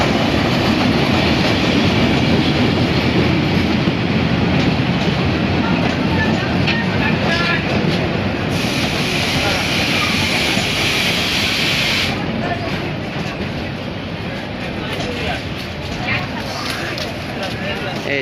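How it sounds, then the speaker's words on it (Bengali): A crowded local train pulls into Nasratpur railway station, a loud continuous rumble of wheels and rolling carriages with clattering rail noise, while someone talks over it. "এই যে দেখেন লোকাল ট্রেন।"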